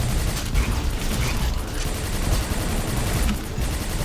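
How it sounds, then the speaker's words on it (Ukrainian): Gunfire in the first-person shooter Quake 4 crackles continuously as sustained, loud, dense bursts of shots with brief lulls between volleys, filling the whole span. "Та харе по мені стріляти."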